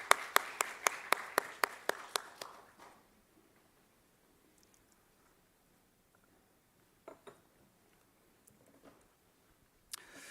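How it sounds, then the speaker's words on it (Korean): A church congregation applauds in a short burst of rhythmic clapping, about ten sharp claps fading out within three seconds, followed by near silence and a few faint knocks. "격려의 박수 하겠습니다."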